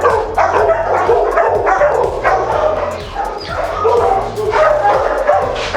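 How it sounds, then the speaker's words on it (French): Several dogs at an SPA animal shelter in France bark, yip and whimper in a loud, busy overlapping chorus of repeated barks, with some speech mixed in. "Oh là là, tous ces chiens qui sont là."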